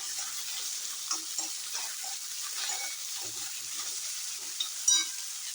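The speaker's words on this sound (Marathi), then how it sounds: "कांदा असा भाजल्यानंतर हा चिरलेला बटाटा घालायचा आहे. आपण याच्यात फ्राय करून घ्यायचा." Chopped potato fries with onion in oil, a continuous hissing sizzle at moderate volume, broken by a few light stirring knocks and a brief clatter near the end.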